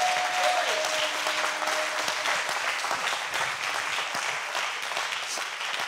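A church congregation bursts into sustained applause and cheering, a dense, loud wash of many hands clapping that carries on steadily throughout.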